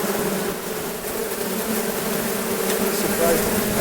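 A dense, steady buzz of many honey bees around a hive fills the air, continuous and close, with no talking over it.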